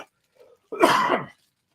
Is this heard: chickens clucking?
no